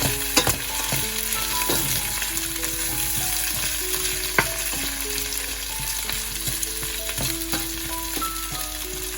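Cauliflower sautés with onion in a pan over medium-high heat, giving a loud, steady sizzle with occasional stirring clicks and scrapes throughout.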